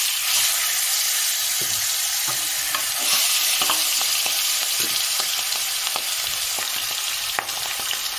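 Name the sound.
aar fish frying lightly in oil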